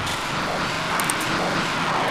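Heavy car engine in the video game Dude Theft Wars, a constant rough roar at moderate level that holds steady with no talking.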